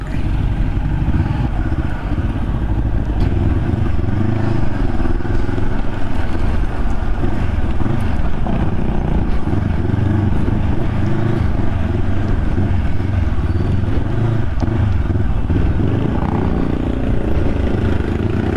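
Steady road traffic with motorcycles and cars on a Tarlac City route near MacArthur Highway, a continuous rumble of passing engines mixed with wind buffeting the microphone, with no clear individual pass-bys standing out.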